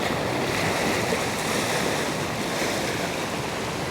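Ocean waves wash continuously onto Vizag beach, a dense, steady surf roar with some wind noise and no speech.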